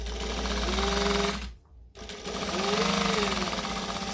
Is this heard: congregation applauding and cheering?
no